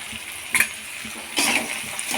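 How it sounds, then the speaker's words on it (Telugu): Bitter gourd pieces frying in oil while being stirred: a soft steady sizzle with two brief scraping stirs of a utensil against the pan, close and fairly quiet. "ఇలా ఈ కాకరకాయలన్నీ ఫ్రై చేసుకోవాలి."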